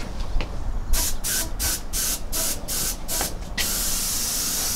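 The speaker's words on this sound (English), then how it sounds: "put it on the airbrush, and then we're going to go outside and start coating it" Short bursts of airbrush spray hiss in a quick series of pulses, then settle into one continuous spray, close and steady, outdoors while coating Mossberg 590 shotgun parts.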